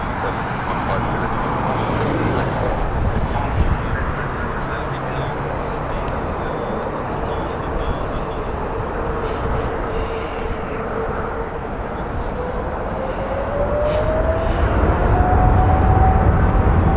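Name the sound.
airplane at Heathrow Airport, Warsaw flight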